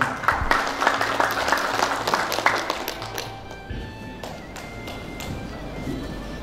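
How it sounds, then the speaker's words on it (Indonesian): Audience applause at a seminar session on community togetherness in Riau province, broadband clapping fading over several seconds into scattered taps and light footsteps. "Boleh berikan tepuk tangan"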